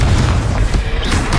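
A booming explosion from the Confringo fire spell during combat in the video game Hogwarts Legacy, loud and dense with rumbling low end across the whole short burst.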